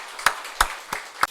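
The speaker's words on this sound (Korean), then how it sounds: "박수로 우리 환영합시다" A church congregation at a Sunday worship service clapping to welcome newcomers: four sharp, evenly spaced claps, near and distinct against a quiet room.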